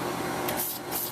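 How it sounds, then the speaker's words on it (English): Short bursts of throttle body cleaner aerosol spray hiss close by on a Ford Crown Victoria engine, two quick puffs against a steady background hum. "I'm going to go ahead and spray my throttle body with the throttle body cleaner"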